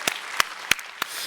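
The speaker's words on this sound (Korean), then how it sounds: "우리 한번 박수로 우리 하나님께 영광 돌리겠습니다." A church congregation applauds, heard as a few sharp, evenly spaced claps, rather sparse and moderately close, with no talk over them.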